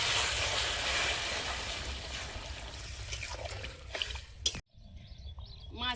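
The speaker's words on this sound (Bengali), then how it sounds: "জল দিয়ে দেব।" Water is poured into a pan while fish curry with green chillies is being made, a soft trickling splash running for several seconds before a brief cutoff.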